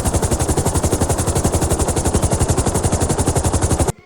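A helicopter searching over a forest flies close overhead, its rotor blades thumping in a rapid, steady chop that stays loud before cutting off abruptly.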